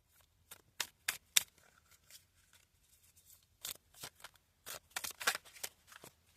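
Several quick bursts of tarot cards being riffled and shuffled, in two clusters separated by a short pause, fairly close and crisp.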